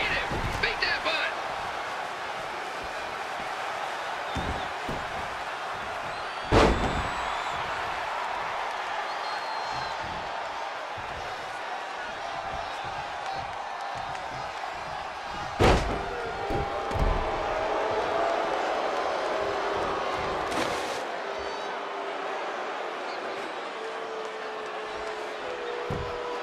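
Crowd noise rumbles steadily through a WWE 2K20 wrestling match, a continuous arena roar broken by a few sharp slam-like impacts, with commentary-style voices over it.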